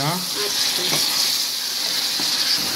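Broiler chicken and potatoes fry in a pan with a steady, bright sizzle and hiss, close and constant, while voices talk faintly over it.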